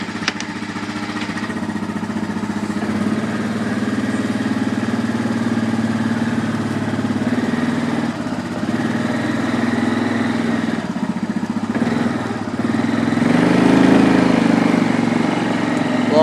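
A Yamaha Grizzly 700 ATV engine idles while it warms up after a cold start. The rumble is steady and nearby, and the revs rise briefly toward the end.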